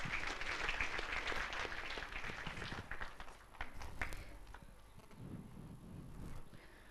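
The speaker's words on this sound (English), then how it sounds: "can we have a round of applause, please?" A seminar audience gives a round of applause, fairly faint and uneven, with strong early clapping that thins and fades into a few scattered claps and low room murmur.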